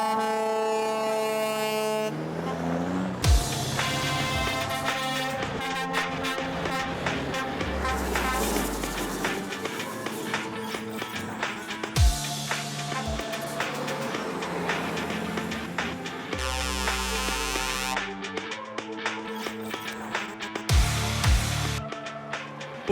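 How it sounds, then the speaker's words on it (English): Classic and modern trucks, including American big rigs, parade around a festival race track with loud, sustained air horn blasts, rumbling diesel engines passing by and repeated horn calls over the crowd-side ambience. "Ari Vatanen had the honour of leading the trucks away as they paraded around the track, and they truly were a sight to behold and to hear."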